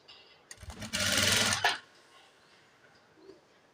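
A sewing machine stitches a churidar neck in one short, close whirring burst of about a second, with soft handling clicks before it and a quiet room after.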